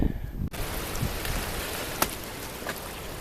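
Steady rain hisses down in a dense, continuous wash, with a few sharper drip impacts standing out; no voices.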